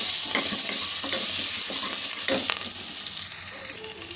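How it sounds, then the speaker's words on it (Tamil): Green chili, curry leaves and ginger sauté in hot oil, giving a dense, steady sizzle with scraping stir strokes throughout, close and loud. "பச்சை மிளகா கருவேப்பிலை இஞ்சி எல்லாமே எண்ணெயிலே வதங்கட்டும்"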